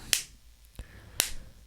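A few sharp, isolated hand claps or snaps ring out in a quiet room, two bright cracks with a softer tap between them, spaced unevenly.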